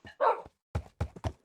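A dog barking in the Minecraft video game, one whimpering yip followed by four quick, close barks in a steady rhythm, with no talk over them.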